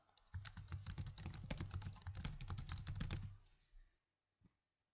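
Someone types a new folder name on a computer keyboard: a quick, close burst of key clicks lasting about three seconds, then a short pause and one or two isolated taps, with no talk.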